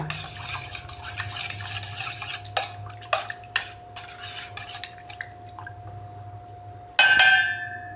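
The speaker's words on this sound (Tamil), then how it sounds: "காப்பி பவுட்ரு கட்டி இல்லாமல் நல்லா கலந்து விட்டுருங்க." A spoon stirs and scrapes coffee powder mixed with henna in a bowl, scattered clinks against the sides, ending in a brighter metallic knock, against a steady electrical hum.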